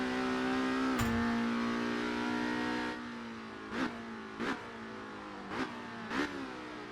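A Volvo supertourer race car in Assetto Corsa runs at Spa with a sustained, buzzing engine note that climbs, then settles lower, broken by several short gearshift blips and revs.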